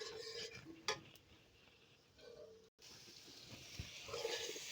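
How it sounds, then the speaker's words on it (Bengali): Potato and eggplant curry for a boal fish dish is stirred in a pot over the stove, giving quiet scraping and a few metallic clinks of the utensil against the pot, with faint sizzling and short pauses between strokes. "এবার কষে নেব।"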